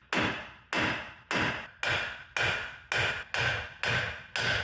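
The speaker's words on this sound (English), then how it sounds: "So I'll put this back on a couple threads, and we'll give it a few taps right here." Eight sharp, evenly spaced hammer taps ring out close by on a front suspension part of a 1994 Chevy K1500 pickup, with no talk over them.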